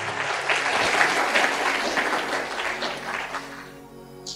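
An audience at an Independence Day (15 August) religious sermon claps loudly and steadily, the dense applause holding strong before tapering off near the end.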